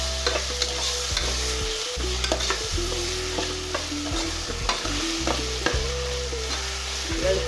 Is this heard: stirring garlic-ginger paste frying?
yes